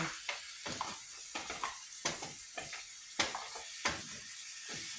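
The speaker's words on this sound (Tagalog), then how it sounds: "Haluin mo lang ah" Mussels are stirred in a hot cooking pan, making a rhythmic run of scraping, rattling strokes about every half second over a continuous hissing sizzle, close and fairly quiet.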